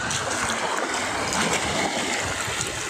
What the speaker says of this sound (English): putting these young feet in this water